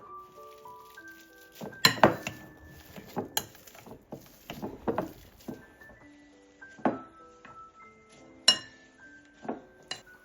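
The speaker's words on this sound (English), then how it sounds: "In another bowl, we mash fresh cottage cheese." Fresh cottage cheese mashed in a bowl, with scattered spoon clinks, taps and scrapes against the bowl over steady background music.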